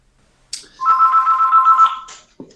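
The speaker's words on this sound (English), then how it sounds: "Oh, someone's on the phone." A telephone rings once in a single sustained electronic burst, loud and close, framed by short clicks before and after, with no talking over it.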